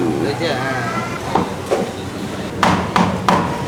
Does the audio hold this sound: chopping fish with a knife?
yes